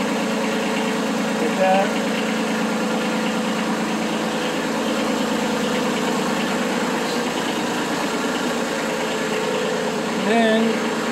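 A Kubota B2301 compact tractor with a BH70 backhoe idles steadily with a throbbing, close diesel rumble while the backhoe is tilted, and someone speaks over the engine noise.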